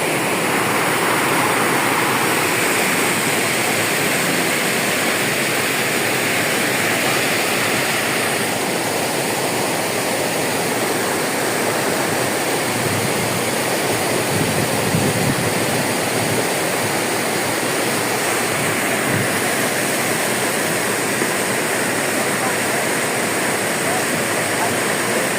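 Floodwater rushing steadily along a riverbank fitted with a parapet after a flood: a loud, continuous broadband roar that stays dense and unbroken throughout, close by and without pauses.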